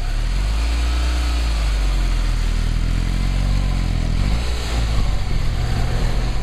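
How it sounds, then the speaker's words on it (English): A small 640cc two-cylinder car engine runs with a rough, buzzing drone, loud and close, rising and falling slightly as it revs, alone with no voices. "640cc two-cylinder engine is about as smooth as a coffee grinder. It literally vibrates the entire car"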